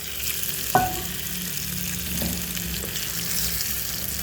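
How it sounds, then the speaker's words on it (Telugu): Hot tempering poured into a cucumber and tomato chutney gives a sharp clink followed by a continuous close crackling sizzle that holds steady to the end. "కొంచెం పసుపు ఇందులో వేసేసుకొని వేడి తాలింపు అందులో వేస్తే సరిపోతుంది."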